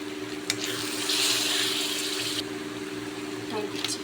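Water poured from a vessel into a pan of ground turmeric, coriander and cumin while cooking, a steady splashing pour lasting a few seconds over a constant kitchen hum.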